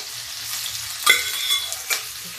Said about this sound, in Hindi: इसमें हम ये जो कटहल है इसको फ्राई करेंगे